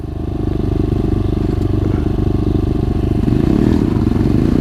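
Small pit bike engine, an SSR or Xmoto 125, revs hard and steadily close by as the rider launches off, the buzzy exhaust swelling slightly louder toward the end.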